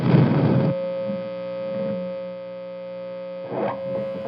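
A heavily distorted, fuzzy electric guitar through a ThorpyFX Gunshot fuzz pedal strikes a chord that sustains and buzzes, followed by a couple more picked strums, loud and compressed.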